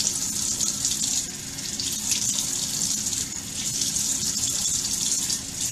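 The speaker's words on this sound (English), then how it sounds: "Alright, so you want to rinse off" A bathroom tap runs steadily while face wash is rinsed off, a continuous close hiss of flowing water and splashing with small dips in level, no voices.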